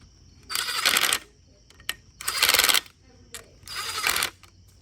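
A flywheel nut on an Evinrude 200HP outboard is torqued to 145 foot-pounds while the flywheel is held. Three close, rasping bursts of wrench ratcheting are separated by brief pauses with a few isolated clicks.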